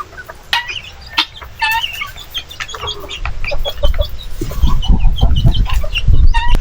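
Native chickens, muscovy ducks and guinea fowl crowd a farm coop, with repeated clucks and bird calls scattered throughout and a rising jumble of flapping and scratching noise growing louder toward the end.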